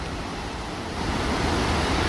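The Homurlu waterfall on Sarnaz Creek near Adana pours down in a dense, continuous roar of falling water, loud and steady throughout.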